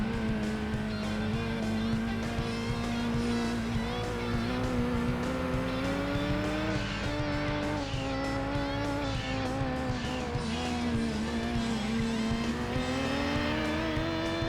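Ford Escort rally car in Gran Turismo 2 on a rally stage, its engine droning steadily and loud throughout with a constant buzzing tone that rises and falls slightly, tire noise mixed in, no talk.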